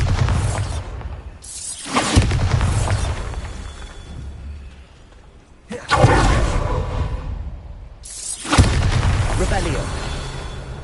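Bombarda explosion spells go off in a video game: three heavy booming blasts with shattering debris, each bursting suddenly and then rumbling away, with a voice speaking around them.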